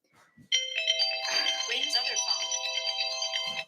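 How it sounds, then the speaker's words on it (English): A phone ringtone sounds loud and close, a sustained bright tonal ring that starts abruptly and holds for about three seconds, with faint bits of sound before and after. "Let me get this phone call."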